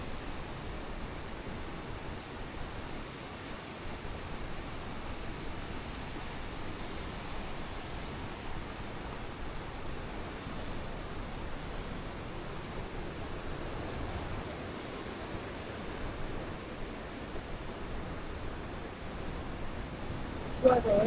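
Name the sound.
waterfall flowing into the sea, waves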